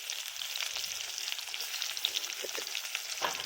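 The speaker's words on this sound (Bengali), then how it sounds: "পেঁয়াজটা ভাজা ভাজা হয়ে গিয়েছে" Two chopped onions frying in a little oil in a home kitchen pan, a steady soft sizzle and crackle with small pops, continuous and fairly quiet with no voices.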